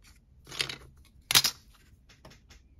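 A pair of scissors snips into a junk mail envelope during a papercraft session, giving two brief crisp cuts close by, the second sharper and louder, with quiet handling noise between.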